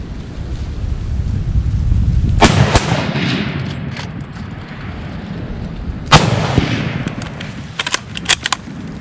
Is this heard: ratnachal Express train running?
no